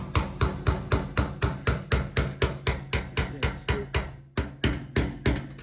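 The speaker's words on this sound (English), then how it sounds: "And hammer and screwdriver." A hammer taps a screwdriver against metal tabs while a G20 conversion van's fuel system is being worked on. The strikes come fast and steady, about three a second, with a brief pause near the end. No one speaks.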